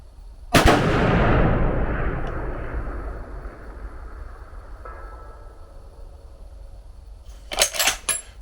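A single loud rifle shot fires at a target 1,030 yards away, its sharp crack trailing into a long rolling echo across open ground, followed a few seconds later by faint clicks and rattles of the rifle being worked.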